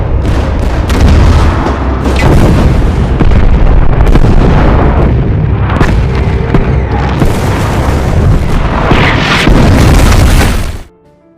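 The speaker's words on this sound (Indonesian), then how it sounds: "artileri pun langsung ditembakkan" Sustained artillery bombardment against Soviet troops in trenches: loud, continuous booming blasts and explosions rolling together for about eleven seconds, dense and close, then cutting off abruptly.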